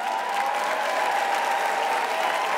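A comedy roast audience bursts into sustained, even applause, a dense wash of clapping heard with no break or voices standing out.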